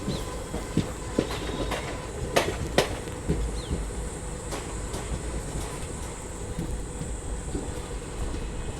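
A passenger train runs along an Indian rail section with parallel lines, a continuous rumbling roll with scattered sharp clanks and wheel clicks heard from on board, no voices.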